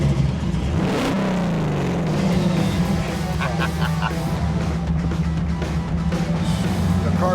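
A small custom-built car accelerates on a test drive, its engine rising sharply in pitch, then holding a steady, fairly close drone, with a few brief honk-like squeaks along the way.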